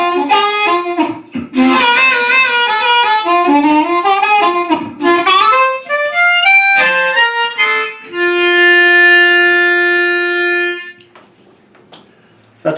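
Electric guitar played through a Fender Mustang III amplifier at master volume 4, on a dry 1959-style basement amp patch with no reverb: loud, close melodic phrases and bent notes, ending on a long sustained note.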